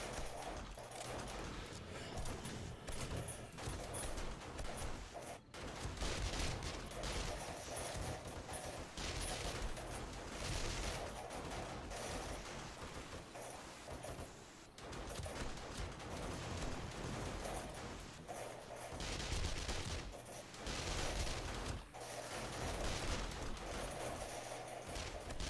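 Sustained bursts of gunfire in the zombie survival game 7 Days to Die Alpha 20, dense and loud volleys with heavy thuds running almost continuously, with a few brief lulls.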